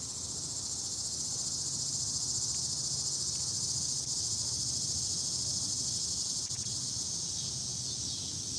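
Steady, dense high-pitched insect buzzing fills the whole stretch without a break, loud and continuous, with a faint low hum underneath.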